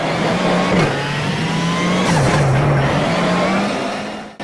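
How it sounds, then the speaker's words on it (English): A WRC rally car engine, loud and close, pulling hard out of a corner after a downshift to first gear, with a steady high drone, brief pitch dips at the gear changes, then rising again. "2nd gear, 1st gear, back on the power, and away we go."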